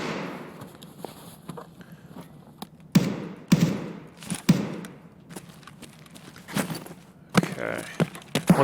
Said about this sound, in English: So right now I want to take some time to top load and reload here.